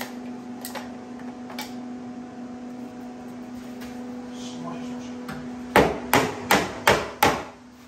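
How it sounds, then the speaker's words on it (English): A hammer strikes a car engine mount five times in quick, loud, evenly spaced blows during a K24 engine swap in an EM2, after a stretch of quieter ticking and a steady hum. "Pass me that hammer."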